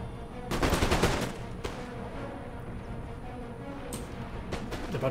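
Cossack musket fire in Empire: Total War, with a loud volley cluster near the start followed by a few scattered distant shots over a low battlefield rumble.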